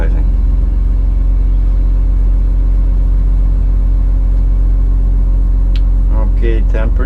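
A heavy engine runs close and loud as its RPM is raised, holding a steady deep droning hum with brief clattering knocks near the end.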